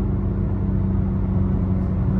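Steady engine hum and road rumble inside a car cruising smoothly in fifth gear, constant and close with no talking.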